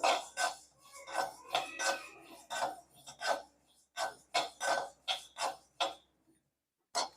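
Mustard seeds dry-roasting in a pan while curry chili powder is made, giving a run of about a dozen rhythmic rasping, scraping bursts at close range that break off briefly near the end.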